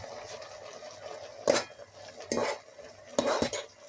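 Pancit canton noodles being stirred in a pan, three distinct scraping clatters of a utensil against metal, spaced about a second apart over a low background hum.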